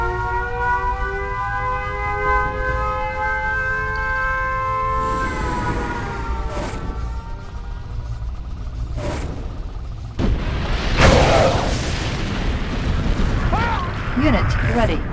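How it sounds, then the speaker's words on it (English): A nuclear missile launch in Red Alert 2 brings a steady wailing siren tone with layered harmonics, then a deep rumbling explosion and blast that swells louder toward the end, with a game announcer voice heard. "Warning, nuclear missile launched."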